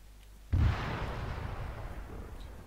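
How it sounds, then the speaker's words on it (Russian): In the ARMA 3 video game, a single loud, close gunfire blast erupts suddenly and then trails off into a rumbling echo that lingers for a couple of seconds, with no voices over it. "taking some small arms fire."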